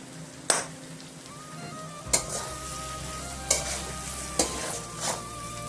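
Chopped romaine lettuce greens sizzle steadily in a frying pan while being stirred, with several sharp clinks of a spoon against the pan recurring every second or so.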